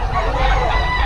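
Young roosters (stags) crowing and clucking at close range, a loud, brief burst of fowl calls.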